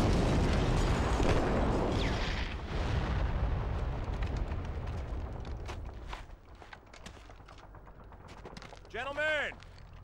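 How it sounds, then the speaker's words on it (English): Fuel drums blow up after being shot in Call of Duty 2: Big Red One, a heavy rumbling blast that roars and decays over several seconds, followed by scattered pops and a voice shouting near the end. "Shoot the fuel drums!"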